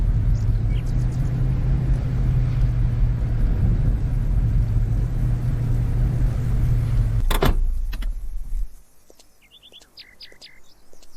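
A truck in Lumberjacks Dynasty rumbles loudly and steadily up close, then the engine cuts off abruptly, leaving quiet ambience with faint bird chirps.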